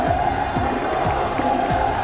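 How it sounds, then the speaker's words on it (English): A large crowd cheers at a Call of Duty Warzone esports event in Riyadh. The roar is a continuous, moderately loud wash of voices with no single voice standing out. "The crowd getting behind Falcons as you would expect here in Riyadh"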